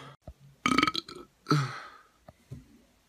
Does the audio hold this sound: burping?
yes